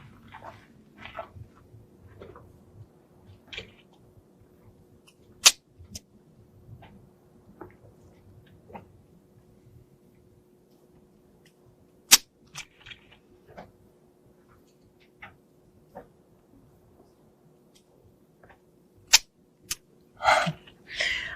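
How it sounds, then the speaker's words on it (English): Double-action handgun trigger pulled in dry fire, producing sharp isolated clicks spaced several seconds apart against near silence, with a faint steady hum and a cluster of quicker clicks near the end. "just pulling the trigger."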